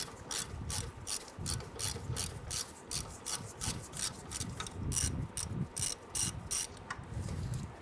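Ratchet clicking rapidly in repeated bursts while turning an E8 socket on an extension near the strut of a 1994-2004 Ford Mustang front suspension, close and fairly quiet, with brief pauses between swings.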